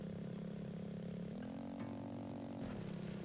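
A vehicle engine in the 2D action game Laika Aged through Blood drones at a steady mid-pitched hum, then steps up in pitch as it accelerates partway through, with no talk over it.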